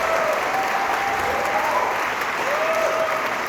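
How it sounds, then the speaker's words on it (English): A festival screening audience gives a film Q&A a sustained round of applause, steady and even, with a few faint whoops rising over the clapping. "I just want to give one more round of applause for High Tide"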